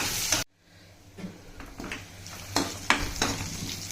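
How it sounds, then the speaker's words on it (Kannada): Onions frying with green chillies and curry leaves in a pan, a soft steady sizzle after a brief louder burst, broken by several scraping stirs of a spoon against the pan. "ಈರುಳ್ಳಿ ಹಸಿಮೆಣ್ಸಿಕಾಯಿ ಈರುಳ್ಳಿ ಕರಿಬೇವು ಹಾಕಿ ಸ್ವಲ್ಪ ಈರುಳ್ಳಿ ಫ್ರೈ ಆಗಲಿ"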